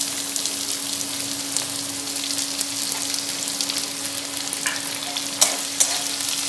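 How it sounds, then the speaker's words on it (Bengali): Chopped onion fries in hot oil with kasuri methi in a pan for a Bengali-style kabuli chana ghugni. A steady, close sizzle and hiss runs throughout, with occasional sharper scrapes as it is stirred, and no talk. "দিয়ে পেঁয়াজগুলোকে খুব ভালো করে আমি ভেজে নেব।"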